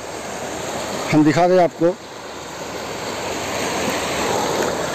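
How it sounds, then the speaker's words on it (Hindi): A strongly flowing river near Rani Mahal in Nepal gives a steady broad rushing roar throughout, with someone speaking briefly over it. "रिवर आप देख सकते हैं ज़ोरदार का बहाव है इसमें"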